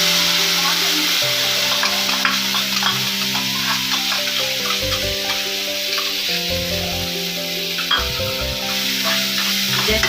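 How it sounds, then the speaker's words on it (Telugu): Prawn shells fry in hot oil in a pan with a loud, steady sizzle and crackle, and occasional scraping as they are stirred. "ఇప్పుడు మనం ఇది సేమ్ ఆయిల్లోనే ఈ రొయ్య పొట్టును కూడా ఫ్రై చేసుకోవాలి."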